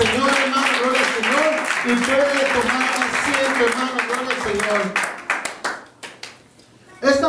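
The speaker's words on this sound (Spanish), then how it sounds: "Denle un aplauso al Señor, hermano." A church congregation claps together during a Spanish-language service, dense steady applause with voices over it, thinning into scattered claps toward the end.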